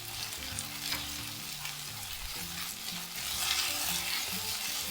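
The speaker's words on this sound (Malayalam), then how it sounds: "എന്നാലും ഒന്ന് പച്ചക്കറിയെല്ലാം മാറുന്നത് വരെ ഒന്ന് നമുക്ക് നല്ലപോലെ ഒന്ന് വഴറ്റി കൊടുക്കാം." Vegetables with turmeric sautéing in a pan for chicken bonda: a steady, close sizzle with stirring scrapes throughout, faint music underneath.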